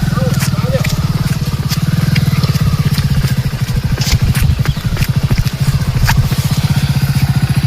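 A motorcycle engine chugs steadily at close range with a fast, even low throb through the whole stretch while people talk over it.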